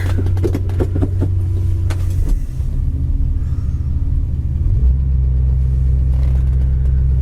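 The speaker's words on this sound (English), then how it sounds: "Car shifts down, idles really nicely as well" Engine of a 1966 Ford Fairlane idling: a loud, steady low rumble that holds even throughout, with a brief change in tone partway as the car shifts down, then settles into a smooth idle, no voices.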